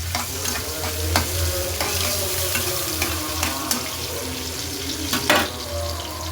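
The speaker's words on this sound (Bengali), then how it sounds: "পেঁয়াজটা একটু ভাজা ভাজা হোক।" Chopped onions sizzle in hot oil with rice added to the pan, a steady close frying hiss broken by repeated scraping strokes of a stirring spoon.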